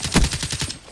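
Rapid machine gun burst from a KN-44 assault rifle in Call of Duty Black Ops 3, roughly eight evenly spaced close shots in under a second, loud and alone.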